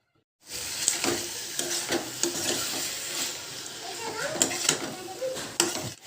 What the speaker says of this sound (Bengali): এবার এর মধ্যে দিয়ে দেবো মাশরুমটা মাশরুমটা একটু কষাবো মশলার সঙ্গে